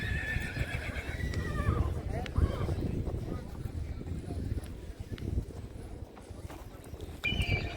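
An 18-month-old foal at a horse-riding event whinnies, with hooves clip-clopping and someone talking close by over steady outdoor noise.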